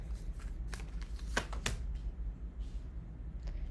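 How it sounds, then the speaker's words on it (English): Tarot cards being shuffled by hand, giving a series of crisp riffling slaps and flutters clustered in the first two seconds. Softer rustles follow over a steady low background, close to the listener and with no speech. "Last shuffle."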